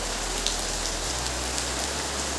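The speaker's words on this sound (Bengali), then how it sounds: "দেখো কি জোরে বৃষ্টি নেমেছে" Heavy rain pours down steadily in a dense, even roar, with gusting wind, close and loud throughout and no voices.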